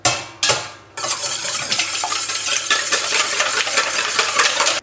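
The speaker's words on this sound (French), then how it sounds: "On va déjà commencer à fouetter ça." Three eggs whisked in a bowl for a lemon poppy seed yogurt cake: quick, rhythmic scraping and tapping of a whisk against the bowl, close and continuous after two short opening strokes.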